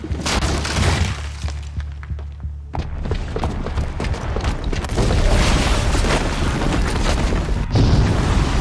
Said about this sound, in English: the booby trap on the bomb downstairs is gonna get set off